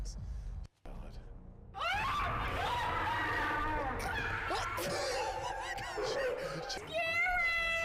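Startled prank victims scream and run away in an office building basement, where a predator was left parked. Loud, chaotic shrieks and yells overlap with a voice and scuffling, while a brief silence comes early.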